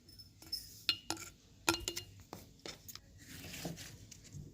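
A tablespoon of salt going into a quart-sized glass mason jar for lacto-fermented carrots, quiet scattered clinks and taps of spoon on glass, some sharp and close, over a hushed background.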